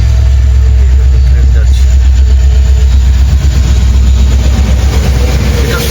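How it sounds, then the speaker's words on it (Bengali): A passenger train runs at night through dense jungle in the Dooars, giving a loud, steady, close rumble of heavy running gear with a faint rhythmic clatter that holds for the whole stretch. "এই গাড়ি ঢুকছে রেল ট্রেন ক্রস করছে ঘন জঙ্গলের ভেতর দিয়ে"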